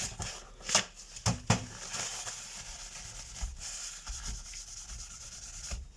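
Guitar frets being polished with compound on a polishing wheel, a continuous rubbing, sanding hiss with a few sharp knocks and scuffs early on, close and without speech.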